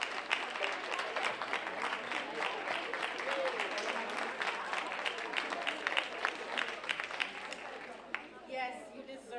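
A large convocation crowd applauds steadily as first-year students at Miami-Dade's North Campus stand, with dense sustained clapping at moderate distance and a few brief voices rising near the end.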